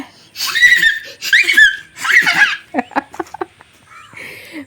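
A child mimics a horse: several high, squealing whinny-like cries followed by a quick run of tongue clicks like galloping hooves.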